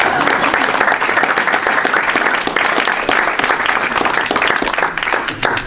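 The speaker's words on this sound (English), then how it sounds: "let's give him a round of applause" Audience applause for the mayor at a community event on Hinduism in Fort Collins: steady, dense clapping from a sizeable crowd, loud and close, holding for several seconds without letup.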